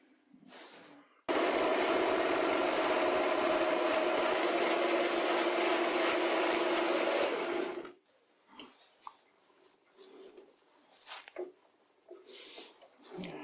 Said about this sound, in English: It seems to be machining much nicer near the chuck, and even a smooth finish over here.